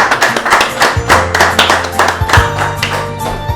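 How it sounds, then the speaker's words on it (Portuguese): A handful of people clap together during a podcast recording, loud and close, with uneven rhythmic claps and a faint musical tone beginning underneath partway through. "Palmas para ele, todo mundo."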